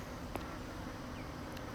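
A strong honeybee colony in a hive of three medium boxes gives off a steady, soft, continuous buzz outdoors in a bee yard, with a faint click or two over the drone.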